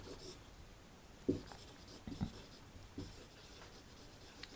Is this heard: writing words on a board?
yes